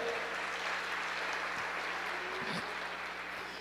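A church congregation claps together in sustained, dense applause, steady and moderately loud from a room full of people, with voices mixed in.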